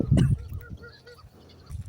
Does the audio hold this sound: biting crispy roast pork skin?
no